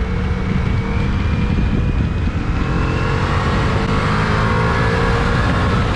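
A Ducati Multistrada motorcycle accelerates in fourth gear on a wet road, its engine drone rising smoothly beneath strong wind buffeting, loud and continuous.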